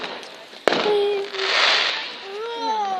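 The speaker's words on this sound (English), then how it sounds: "Here comes the fireworks." Fireworks at a display go off with a sharp bang followed by crackling bursts and whistling rising trails, close and loud, with no one talking.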